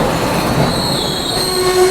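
A train pulls into Durg Junction railway station with a loud, continuous rumble. Long high-pitched wheel squeals run through it, with a brief horn-like tone as it slows.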